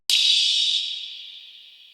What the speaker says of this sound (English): And one long hi-hat that's playing.